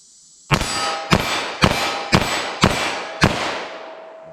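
Six sharp gunshots from a revolver firing Buffalo Bore .32 H&R Magnum +P ammunition, spaced about half a second apart, each a loud crack with a ringing tail, heard alone without talk.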